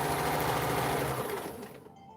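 A sewing machine stitches through padding on a dress form cover, running steadily and close for most of the burst before slowing and trailing off near the end.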